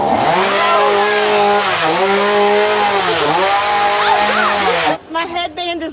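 A chainsaw revs loudly and continuously, its engine pitch dipping and rising a few times before cutting off near the end.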